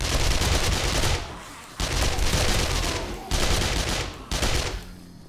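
9mm pistol fire in the game 7 Days To Die, loud bursts of shots in three or four dense volleys separated by brief gaps, close and alone.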